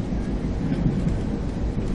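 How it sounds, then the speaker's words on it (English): Steady low rumble and rattle inside a moving Amtrak passenger train traveling through Oregon, a continuous heavy drone with no voices. "So right now I'm on the train."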